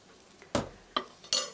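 Whole canned tomatoes dropped one at a time into a pan for spaghetti sauce, three soft wet plops and clinks against the metal, close and quiet.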